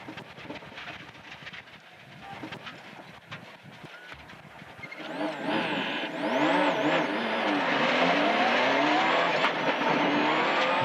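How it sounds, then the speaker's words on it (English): A rally car at speed on a stage: the engine note is rough and gravelly at first, then swells into a loud, sustained revving roar with rising and falling pitch as it passes close. "Jimmy Gervin was driving steadily and sticking to his strategy of finishing the rally without taking too many risks."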